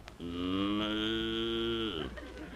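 A long, steady cow moo, loud and close, holding one drawn-out tone for nearly two seconds before breaking off.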